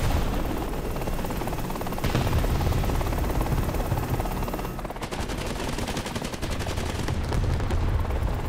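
Helicopter rotor thrum runs through the battlefield of a Vietnam war video game, with rapid rattling bursts of enemy gunfire cutting in, strongest in the second half; no talk over it.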